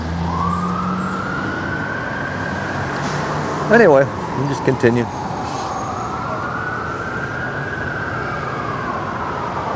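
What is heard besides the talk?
emergency vehicle sirens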